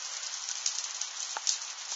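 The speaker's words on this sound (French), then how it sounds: "Écoutez le bruit. C'est du grésil" A moderate sleet shower in Tour-en-Sologne in December: a steady, dense patter of small icy pellets striking surfaces, with a few sharper ticks standing out, heard alone without voices.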